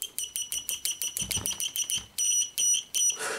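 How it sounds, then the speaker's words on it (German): PeakTech 1070 multimeter sounding its continuity-test buzzer, a shrill, piercing beep pulsing rapidly in a fast stuttering series and then a few longer tones, close and loud with no talking. "Klingt aber ziemlich schrill, dieser Summer."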